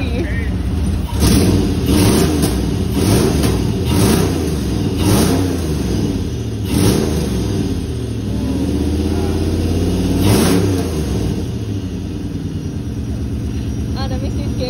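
Nissan 240SX fitted with a custom-built exhaust, its engine revving hard in repeated loud bursts up close, raspy and throaty, with people talking and reacting over the noise.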